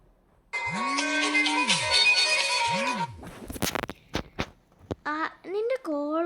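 A phone rings with an incoming call, a bright electronic ringtone with two long swooping tones, followed by clicks and short voiced sounds.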